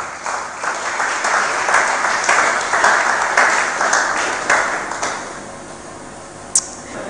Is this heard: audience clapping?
yes